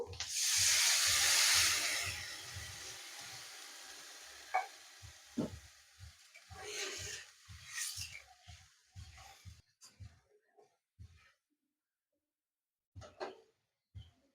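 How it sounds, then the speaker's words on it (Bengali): Water poured into a hot pan of taro leaf greens hisses and sizzles loudly for about two seconds, then settles into quieter bubbling and scattered clinks of a utensil against the pan. "এখন আমি জল দিয়ে দেব।"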